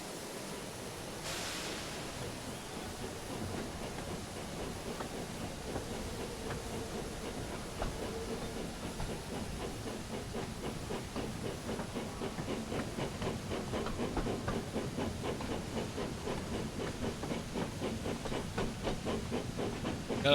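Steam train puffing and hissing in the Thomas & Friends Wonders of Sodor video game: a broad, steady steam hiss with rhythmic chuffing beats that grow quicker and slightly louder as the engine gets moving.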